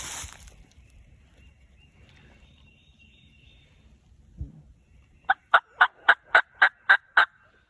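A wild turkey gobbles in the Indiana woods, a quiet stretch and one soft thump giving way to a loud, rapid run of about eight sharp, evenly spaced gobble notes near the end.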